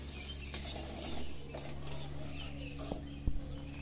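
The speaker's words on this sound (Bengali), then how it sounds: "আমি খুব ভালো করে গাজরটা ভাজা ভাজা করে নেব" Grated carrot fries and is stirred in a pan with a little salt for gajar halwa. A continuous soft sizzle runs under steady scraping strokes, with a couple of sharp utensil clinks and no talking.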